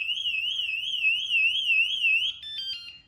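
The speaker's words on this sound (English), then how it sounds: "So now if it senses anything within the next 12 seconds, the alarm will go off." A WSDCAM USB rechargeable bike alarm rated at 110dB wails close and loud in a fast warbling siren, then switches to choppy stepped beeps before cutting off.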